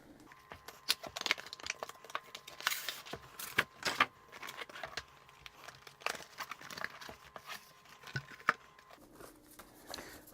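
A knife slices open the box of a GTX 1080 graphics card, giving close, irregular scraping and crinkling cardboard and plastic sounds with sharp little clicks and rustles, no talking.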